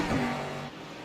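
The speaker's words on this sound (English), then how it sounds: "I hear another car going around" A race car in a racing game at Watkins Glen sweeps past, its engine note rising then fading as it moves away.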